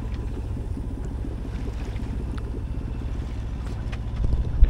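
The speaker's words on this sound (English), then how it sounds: "See if we can get the bloody engine off." Steady low inboard engine drone on a small sailboat cruising alone off the English coast, a continuous mid-level rumble with wind and water noise and a brief knock near the end.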